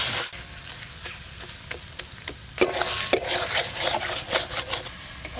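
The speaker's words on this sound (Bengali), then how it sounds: "এবার এই সব কিছু মশলা একসঙ্গে ভালো করে ভেজে নেব।" Ground spices, chopped tomato, green chillies and salt being fried together for a rural-style prawn malai curry, with steady sizzling and repeated scraping stirs of a spatula close up, growing louder partway through, and no voices.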